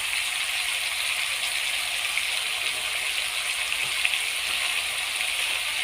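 Cinnamon sticks and cardamom pods sautéing in a pan give a steady, even sizzling hiss with faint crackles, continuous and fairly close throughout.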